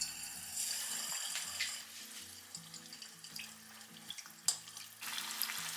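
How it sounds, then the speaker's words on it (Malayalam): Unnakkaya snacks deep fry in hot oil, giving a steady close sizzle and bubbling with small crackles throughout. "അതിൽ ഡീപ് ഫ്രൈ ആണ് ചെയ്യുന്നത്."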